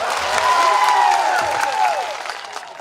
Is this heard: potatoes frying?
no